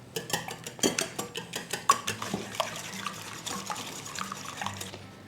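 Five large eggs being whisked in a bowl, a quick run of close clinking and tapping strokes with a watery, splashy edge, alone without talk.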